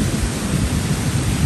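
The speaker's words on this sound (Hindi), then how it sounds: "और बादलों की गरज" Thunder rumbling during a daytime rainstorm that turns the sky dark, a continuous low roar mixed with the steady hiss of heavy rain.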